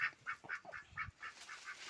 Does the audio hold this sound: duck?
yes